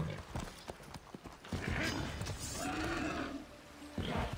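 Horse hooves gallop in quick clip-clop rhythm while riding in Assassin's Creed Odyssey, with a brief whinny and game ambience, a speaking voice partly over it.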